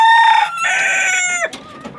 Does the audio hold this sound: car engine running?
no